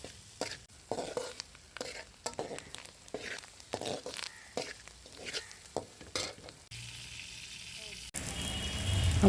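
Curry leaves frying in a pan of brinjal and spices for a dried prawn stew, with repeated stirring scrapes over a sizzle, then a louder, steady hiss of frying toward the end.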